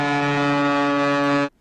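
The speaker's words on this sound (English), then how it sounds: "Let me hit the air horn." An air horn sounds one loud, sustained blast for about a second and a half, then cuts off abruptly.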